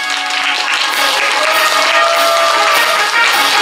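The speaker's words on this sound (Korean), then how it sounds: "큰 박수 주십시오." Sustained applause from an audience at a Korean literary award ceremony, dense clapping that stays loud and even throughout with no speech over it.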